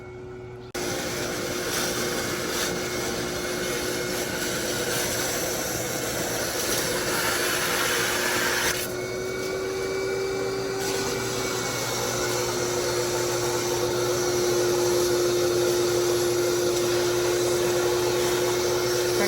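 A pond vacuum drones steadily as it pumps water out through a 30-foot discharge hose, the motor running continuously with a faint whine, and after a brief start the pitch shifts slightly partway through.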